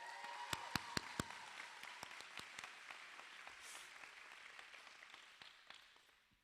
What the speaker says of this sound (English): can I get another round of applause for the class of 2023